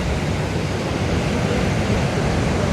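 A flooded river rushes at its mouth where two rivers meet after heavy rain in Portland, Jamaica, giving a loud, steady, broadband roar of churning water that continues without a break.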